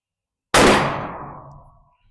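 A single loud rifle shot fired during a penetration test with 5.56, 22-250 and .308 rifles, a sharp close crack that rings out and decays over about a second and a half, with no talk.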